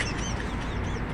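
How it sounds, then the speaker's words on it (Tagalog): Bird calls outdoors on an early sunny morning in Saudi Arabia, a few short bright chirping calls over steady background noise, heard alone without talk. "Ibon."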